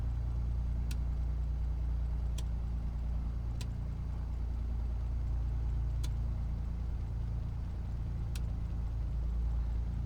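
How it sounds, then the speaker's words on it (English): Light aircraft engine idling at about 1200 RPM during a magneto check in Microsoft Flight Simulator, a steady low drone with faint, evenly spaced clicks, held constant with no talk. "will leave the engine idling at 1200 RPM for 30 seconds"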